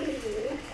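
A pigeon cooing at close range, one short soft low-pitched coo, faint and alone.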